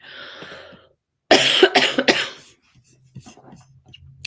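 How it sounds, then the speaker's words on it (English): A rattly cough bursts out in a loud cluster of three or four harsh hacks, close to the mic, after a quieter stretch of background sound, followed by soft low murmuring. "I apologize for everybody having to listen to my rattly cough."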